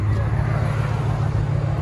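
A 1998 Ford F-150 with a 5.4L Triton V8, shorty headers and dual straight-pipe exhaust idles with a steady, deep low rumble that holds an even level throughout, with no talk over it.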